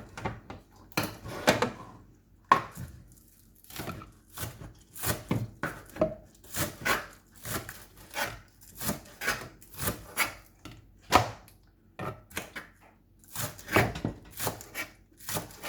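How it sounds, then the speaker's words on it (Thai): A knife chops green onions on a cutting board, making a long run of crisp, close taps in quick uneven bursts with short pauses between them. "หั่นไว้ค่ะ"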